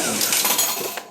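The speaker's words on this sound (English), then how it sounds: "And you heard the payout." Coins drop from a restored Pace Races horse racing slot machine made by Pace Slot Machine Company, a brief metallic jingling payout lasting about a second at moderate loudness.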